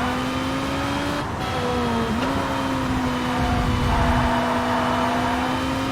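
A race car laps Zandvoort in TOCA Race Driver 3 during a DTM race, its engine holding a steady high drone, dipping briefly under braking before a right-hander, then pulling back up, loud and alone.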